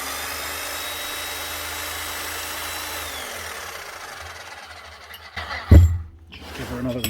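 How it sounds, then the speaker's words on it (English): Repaired Bosch rotary hammer drill running steadily at close range for several seconds, then winding down, followed by a few louder knocks and handling clatter. "Now that should be this Bosch one, up and hammering properly again."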